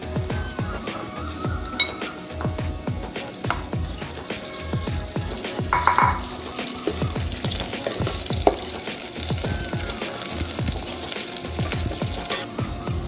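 Spices and curry leaves frying and being stirred inside a rice cooker while making yellow rice, a steady close sizzle broken by repeated scraping strokes of the spoon.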